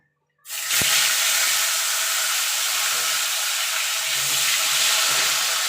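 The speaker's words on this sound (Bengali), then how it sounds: "এবার এই তেলে আমি আলুগুলো ভেজে নেবো" Potatoes dropping into hot oil set off a sudden, loud, steady sizzle that starts after a brief silence and keeps hissing evenly, with faint bubbling underneath, while the cook prepares a Bengali aar fish curry.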